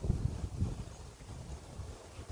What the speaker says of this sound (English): she's a bit windy today